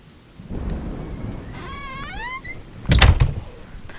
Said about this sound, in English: The rain was giving me a terrible sense of foreboding, and it chilled through my clothes.